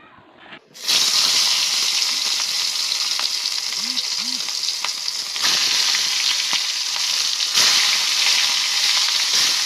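Katla fish head drops into well-heated oil in a kadai, and a loud hiss bursts out suddenly, then settles into a steady, close sizzle that keeps going with small surges.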